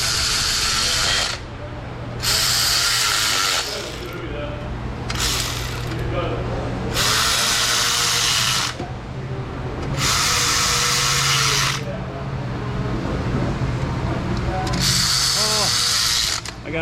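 A torque wrench ratchets oil pan bolts tight on a Volkswagen Jetta 2.5, in repeated bursts of loud, rapid clicking separated by short pauses.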